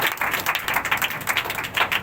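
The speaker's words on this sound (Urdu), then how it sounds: "اسی طرح تالیاں بجاتے ہیں آپ یسوع کے لیے" A church congregation claps in praise for Jesus during a Pentecostal-style sermon, a quick run of many overlapping hand claps pulsing in uneven bursts, fairly close and lively, with no speech over it.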